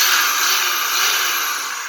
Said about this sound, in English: There's a Skil drill. It's good to go.